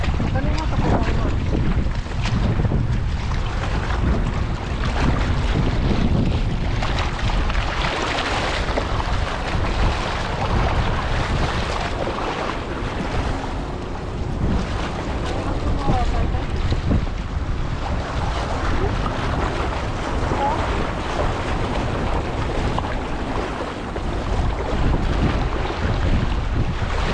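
Wind sweeps over a fishing boat at sea in a long, loud, unbroken roar of gusts and microphone buffeting, with water washing against the hull throughout.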